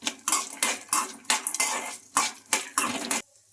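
Peanuts, garlic and ginger stir-fried in a pan with tamarind: about nine rhythmic metal scrapes of a spoon against the pan under a light sizzle, ending abruptly in near silence.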